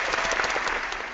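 Applause sound effect played on a live stream: a dense burst of clapping, loud and steady throughout, with no voices over it.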